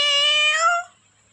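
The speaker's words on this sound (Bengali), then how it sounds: "মিয়াও।" A domestic cat gives one clear, close meow, bright and drawn out, that fades quickly into near silence.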